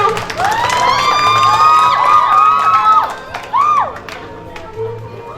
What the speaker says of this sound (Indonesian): berikan tepuk tangan dulu untuk Kang Syahri